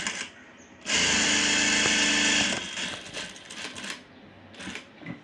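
Sewing machine stitching piping onto fabric for a tissue saree blouse, a steady fast mechanical whirr running for about two seconds, then lighter intermittent handling sounds, close up.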